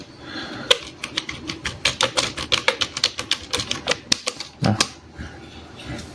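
Rapid typing on a computer keyboard while searching a place name in Google Maps, close and crisp, an irregular burst of clicky keystrokes lasting about four seconds and then stopping.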